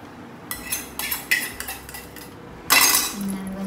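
A utensil scrapes and clinks against a cooking pan in a few irregular strokes, then a louder sizzling rush as food is stirred in oil, close and moderately loud.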